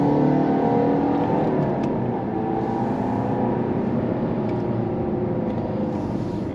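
Car engine revving during a test drive, a loud, dense, continuous drone heard from inside the car, holding steady throughout without pauses or voices.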